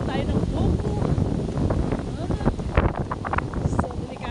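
Strong wind buffets the microphone at a beach, a loud, continuous roar with gusty bursts and rustling, and a voice speaks faintly underneath.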